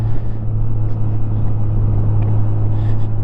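A 2002 Honda GL1800 Goldwing motorcycle runs while riding, its engine a loud, steady low drone with a strong hum and wind rumble, continuous and close.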